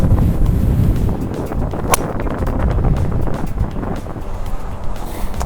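Strong, steady wind buffets the microphone on a golf course at the back tee of the 8th hole, a loud continuous roar with gusty low rumble and no talk.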